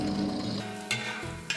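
Raisins frying in hot ghee in a heavy-bottomed pan give a steady close sizzle with soft stirring, broken by two brief louder scraping bursts.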